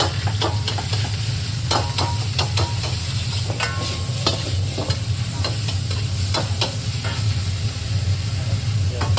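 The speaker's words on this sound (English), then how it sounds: "You put the oil and then put the beef." Ribeye beef stir-frying in hot oil in a wok, a continuous loud sizzle with repeated sharp scraping and clanking of a utensil stirring, no talking.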